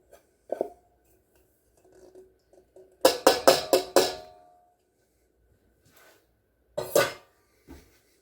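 Chunky salmon cake mixture with chopped celery, green onion and dill being stirred in a bowl, a quick burst of rapid scraping clatter followed later by a second short round of mixing, otherwise near silence.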